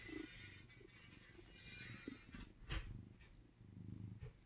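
A pet cat purrs softly up close, a low rumbling drone with faint rustling, quiet and steady throughout.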